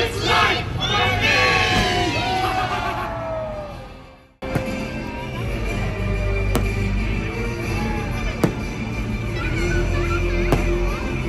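A crowd of cruise passengers on Disney Dream pirate night shouts a pirate chant together, a loud mass of voices that cuts off abruptly, followed by a softer, murmuring crowd and scattered sharp pops.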